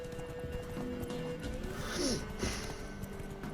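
Horse hooves clip-clop steadily while riding in The Witcher 3, with a neigh or snort near the middle and continuous game ambience underneath, no talking.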